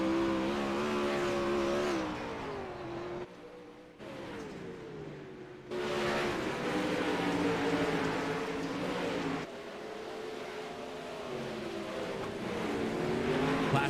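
Outlaw 360 sprint cars race nose to tail in an iRacing sim, with several screaming engines rising and falling in pitch through the turns, loud and continuous, with brief dips between passes.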